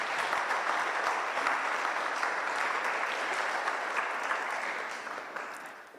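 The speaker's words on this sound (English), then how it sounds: "Let's clap, please." Conference audience clapping steadily throughout, a dense wash of many hands at a fairly close distance, tapering off slightly toward the end with no talk over it.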